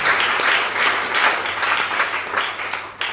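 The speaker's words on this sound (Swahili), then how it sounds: "Pigia Yesu Kristo makofi mazuri." A church congregation applauds together, steady, dense clapping that swells and dips in waves for about three seconds before thinning out near the end.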